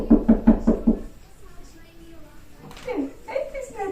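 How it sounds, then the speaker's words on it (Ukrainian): Five quick, even knocks on a door sound close and firm at the start, then a child and an adult speak quietly after them. "Давай її постукаємо."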